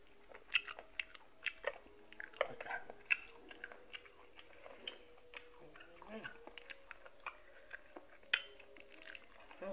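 Crunchy chewing of fried apple snails, close up, with repeated crisp bites and wet mastication in an uneven rhythm and faint background hum.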